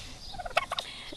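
A hen turkey in a sanctuary field lets out a brief, fairly faint gobbling call, a quick burst of rapid warbling notes, with no talking.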